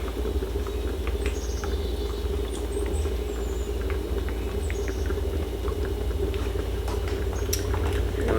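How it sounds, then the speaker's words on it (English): Pot of rice boiling over on a stovetop, dense steady bubbling and crackling patter with faint squeaks, continuous and moderately quiet, no talk. "the rice is kind of boiling over"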